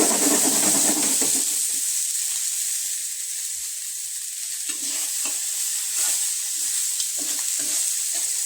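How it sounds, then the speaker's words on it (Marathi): Corn kernels roasting in an oil-and-salt coated pan give a steady close sizzle with a bright hiss, broken by scraping stirs and soft crackles, no voices. "कसं भाजत मक्का भाजत."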